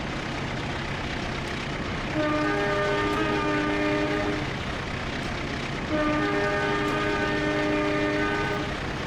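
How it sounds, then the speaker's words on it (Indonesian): A train horn sounds in the Trainz simulator during a Sancaka Utara run near Benowo station: two sustained multi-tone blasts, each about two seconds, rise over a steady rumble of a moving locomotive. "bunyikan suling"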